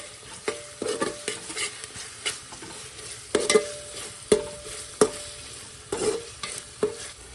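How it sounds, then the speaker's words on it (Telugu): Ginger garlic paste frying in a pan for goat head curry, a crackling sizzle broken by a quick series of rhythmic spoon scrapes and taps against the pan, close and clear, with no speech. "వేసుకొని పచ్చి స్మెల్ పోయేదాకా ఒక 2 సెకండ్స్ ఫ్రై చేసుకోవాలి."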